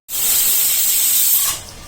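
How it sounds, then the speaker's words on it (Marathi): A single loud burst of hissing steam from a pressure cooker whistle, lasting over a second before dropping away. "तुम्ही बघू शकता शिट्ट्या होतात. 3 शिट्ट्या झाल्यात."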